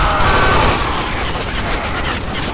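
Rapid bursts of M16 assault rifle fire in a military shooter video game, loud and continuous at first, then fading into scattered shots and rumble.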